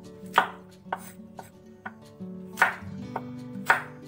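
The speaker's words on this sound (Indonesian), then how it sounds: "Sebelumnya potong-potong kasar dulu bawang merah, bawang putih," A knife chops roughly through shallots and garlic on a board, giving a sparse run of sharp, close thuds at uneven intervals with a faint low hum beneath and no voices.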